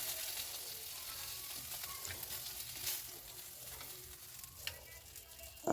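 Fish, a local freshwater variety, frying in oil in a wok, giving a steady, moderately quiet sizzle and crackle throughout with a few brief clinks, and no talking.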